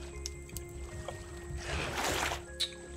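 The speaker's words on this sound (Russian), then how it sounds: "Плюх." A character splashes into the sea in the survival game Raft, a soft watery whoosh that swells and settles over a steady low ambient hum, with faint ripples afterward.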